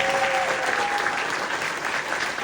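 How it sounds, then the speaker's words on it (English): A round of applause from the crowd at a Reform UK political event, thanking the organisers; thick, even clapping fills the room, loud and continuous, with a faint tone lingering early on. "can we just show them a round of applause"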